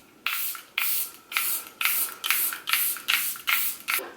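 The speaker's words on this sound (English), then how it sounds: "I'm going to take my Airbrush Flawless Setting Spray by Charlotte Tilbury" Charlotte Tilbury Airbrush Flawless Setting Spray in its White Tea of Bali edition fires eight short, crisp misting bursts in a quick, even rhythm, close and clear against a quiet room.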